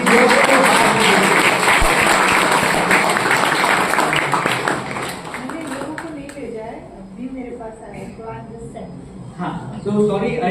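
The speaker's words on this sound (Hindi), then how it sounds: "ताली हो जाए सुनीता मैडम के लिए भी because she worked so hard." An audience at a college interview-preparation session bursts into loud, dense clapping that fades after about five seconds, giving way to a voice talking over the thinning applause.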